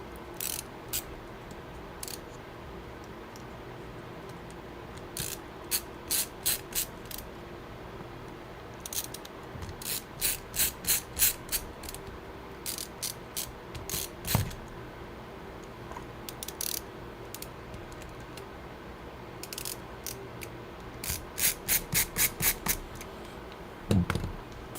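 A screwdriver drives hinge screws back in during a PC repair, producing short clusters of quick, crisp ratcheting clicks that come and go over a steady background hum, close by, with occasional light knocks.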